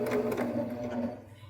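A Baby Lock Jazz II sewing machine stitches quilt binding in a short, rapid burst of mechanical whirring that slows and fades within about a second and a half.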